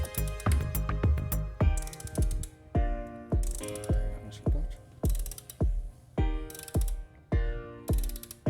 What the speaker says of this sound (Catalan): Muntarem el got de 19 mm a la clau dinamomètrica i utilitzarem la clau fixa del 18 per aguantar a l'altre costat.